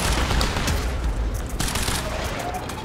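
Rapid gunfire in the shooter game Quantum Break, dense overlapping shots and bursts sounding continuously at close range throughout.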